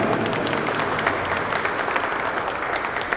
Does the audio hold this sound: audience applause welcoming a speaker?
yes